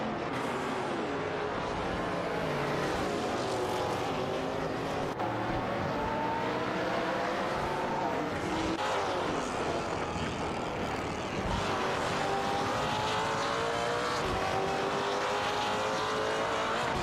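Several race cars, a Toyota GT120 and Panos LMP1 Roadsters among them, roar through an AI-driven racing video game, their engine notes rising and falling steadily in a dense, continuous loud blend with no voices.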